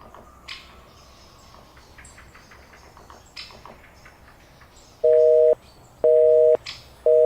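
A telephone busy signal beeps three times in a steady on-off rhythm after a stretch of soft clicks and faint room noise.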